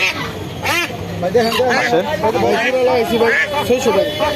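Ducks quack repeatedly at a busy rainy-day livestock market near Hemayetpur, the calls rising out of a steady background of crowd chatter and nearby voices.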